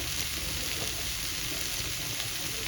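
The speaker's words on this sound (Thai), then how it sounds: "พื่อที่ว่าเราจะได้คั่วสมุนไพรของเราให้หอม" Herbs dry-roast in a pan for stir-fried shrimp with shrimp paste, giving a steady, dense hiss and crackle that is close and even throughout, with no voices.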